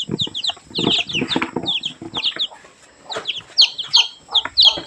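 Colored chicks cheep in high, rapid peeps close by while a hen clucks low and irregularly underneath, in a busy and continuous mix of calls.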